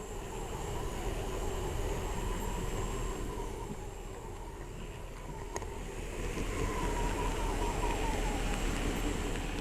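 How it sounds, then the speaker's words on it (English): A train rumbles steadily across the bridge over Lake Lefroy in a train simulator game, a constant low, broad roar with a faint high whine, unbroken and without speech. "Our train crosses the bridge over Lake Lefroy."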